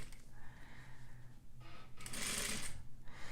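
A sewing machine stitches bias piping in short, quiet runs of rapid mechanical whirring, pausing between bursts, close and fairly faint.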